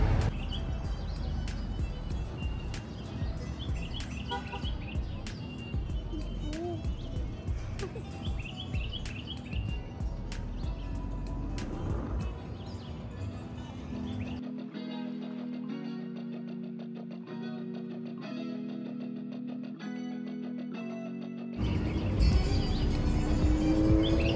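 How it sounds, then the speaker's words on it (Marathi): Birds chirp and sing in the trees lining a mountain chairlift, the calls light and scattered over steady mechanical rumble and wind, with music-like tones taking over partway through. "त्यामुळे पक्ष्यांचा खूप छान आवाज येत होता, तुम्ही ऐकू शकाल या व्हिडिओमध्ये।"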